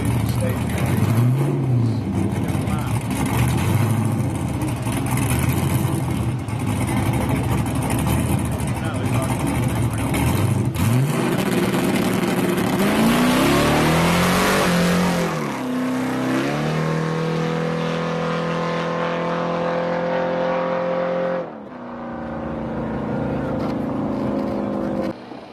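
Street tire race cars making a drag racing run, loud engines revving and climbing in pitch through gear changes, then cutting off sharply near the end, with an announcer talking over them.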